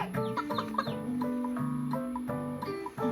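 A farm hen clucks in a quick, choppy series of short, close calls, with no talking over it.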